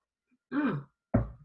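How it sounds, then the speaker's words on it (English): A single close throat clearing followed by a short cough, then quiet. "I get the coughing"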